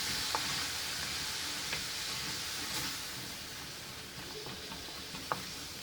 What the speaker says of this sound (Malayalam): മുട്ട നല്ല ചിക്കി പൊരിക്കുന്ന പോലെ തന്നെ ഈ തേങ്ങയുമായിട്ട് മിക്സ് ആവണം